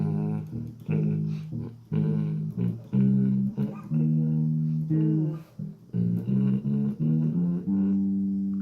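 Bass guitar plays the second verse line of a gospel song, a stepwise run of clear, sustained low notes with short gaps, played alone and close.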